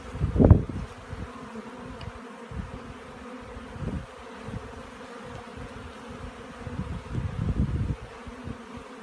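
Honeybees buzz around an open garden beehive, carrying pollen and nectar into the honeycomb; a steady low drone with swelling passes as bees fly close by, loudest near the start and end.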